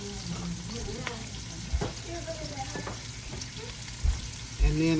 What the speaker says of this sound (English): So trying to do a little stir fried cabbage here, y'all.